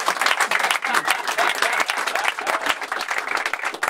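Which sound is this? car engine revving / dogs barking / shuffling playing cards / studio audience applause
studio audience applause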